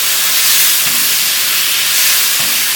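Finely cut boneless chicken pieces roast in a hot pan, giving a loud, continuous sizzling hiss close by, with faint low knocks from the pan now and then.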